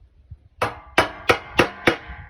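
Five sharp, ringing hammer blows land at an even pace on a piece of metal standing in for an anvil, close and loud with quiet between strikes.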